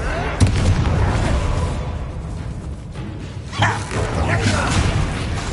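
Two sharp, booming Confringo explosive fire spell blasts in Hogwarts Legacy, a few seconds apart, each followed by a rumbling tail inside a mine.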